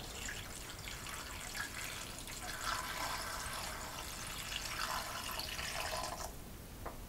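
Water poured into a pot on the stove while duck syrup is being reduced, a steady splashing stream that runs for several seconds and stops abruptly near the end, followed by a few faint drips.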